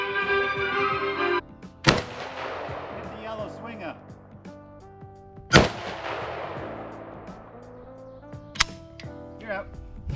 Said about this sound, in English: Boys always smile and giggle when they shoot big guns.